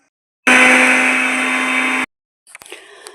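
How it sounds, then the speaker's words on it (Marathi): A kitchen mixer grinder whirs loudly and steadily for about a second and a half while grinding green chillies and roasted peanuts, then cuts off abruptly, followed by a short spell of quieter rattling and clinking. "आता मी हे मिक्सरला छान बारीक करून घेते"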